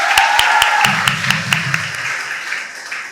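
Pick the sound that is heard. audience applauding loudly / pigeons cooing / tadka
audience applauding loudly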